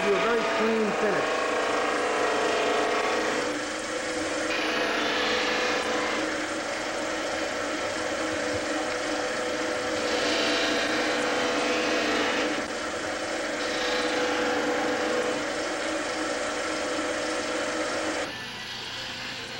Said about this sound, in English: on a flexible shaft tool, makes it easier for us, and put a Sandaflex wheel on it just to cut away those burrs